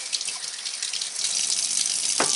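Cold tap water runs steadily into a sink, splashing over steel wool being soaked; a loud, continuous hiss with a brief knock near the end.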